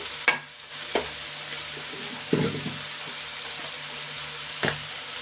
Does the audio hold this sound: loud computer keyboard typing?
no